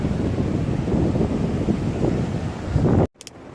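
Ocean surf at Big Wave Bay, Hong Kong rolls in as a loud, continuous wash mixed with heavy wind buffeting. It cuts off abruptly near the end and is followed by quieter roar.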